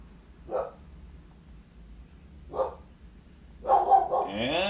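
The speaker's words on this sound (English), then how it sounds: "Dogs are barking." Dogs bark in the distance at a neighbor's property, two single barks spaced a couple of seconds apart followed by a louder cluster of barks and a whine, with no one talking.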